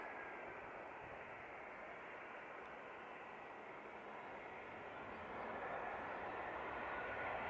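An Easyjet airliner arriving from Paris touches down on a runway at Manchester Airport, heard as a steady, distant broadband roar that swells slightly louder toward the end.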